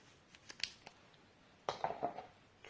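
Adhesive tape being cut with scissors close up: a few small snips and clicks at first, then a louder burst of cutting and tape crackle after a pause, with no talk.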